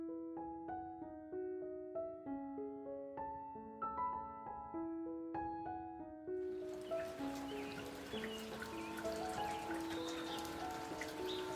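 Rain falling at a farmhouse, a soft steady patter that starts partway through and continues beneath gentle melodic music.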